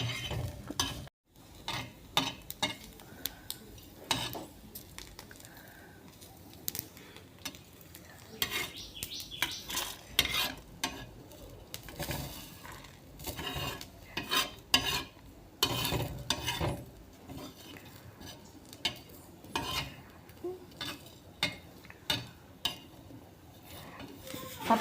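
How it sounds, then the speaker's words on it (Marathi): Green chilies sizzle in a hot pan while a spatula scrapes and stirs them in frequent irregular strokes, with quiet continuous frying underneath and occasional clinks of metal. "आता मिरची टाकली. मिरची भाजून घेते सोबतच."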